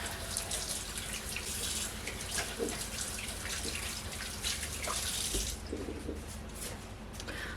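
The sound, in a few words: hands being washed under a running tap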